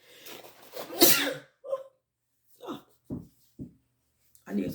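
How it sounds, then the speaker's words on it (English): One loud, close sneeze bursts out near the start, followed by a few short, quiet vocal sounds and breaths. "sneeze"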